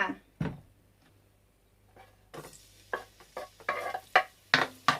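Cooking oil goes into a hot pan for a Thai stir-fry, starting quiet with a couple of knocks, then turning into irregular sizzling bursts with the clatter of a utensil scraping the pan.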